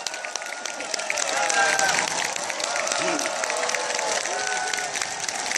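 An audience at a Korean political talk event claps and cheers to welcome a guest onto the stage, a dense, sustained ovation that swells after the first second and stays loud to the end.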